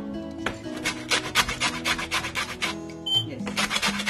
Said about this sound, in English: Just grate it all around,